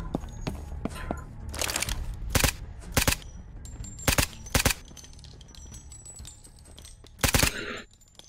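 Gunfire in a Saints Row-style shooter: sharp, loud single shots and short bursts crack out irregularly, about eight distinct reports, over a low rumbling background with occasional faint tonal beeps.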